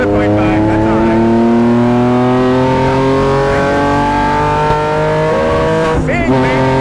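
A straight-piped engine in a Lykan Hypersport replica build revs loud and close on a race track, holding a steady sustained drone with shifting pitch and a brief dip near the end, with no talk over it.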